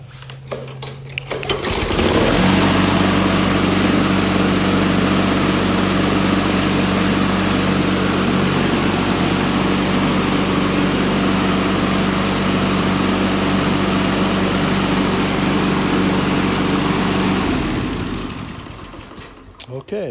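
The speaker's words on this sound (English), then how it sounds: "We're going to start this baby up." A walk-behind lawn mower's small gasoline engine starts and runs steadily at a loud, even drone for about fifteen seconds before cutting off, close by.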